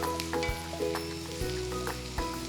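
Curry leaves sizzle in hot oil with softening onions for a chicken stew, a steady close crackle with sharp pops and spits scattered through it and no talking.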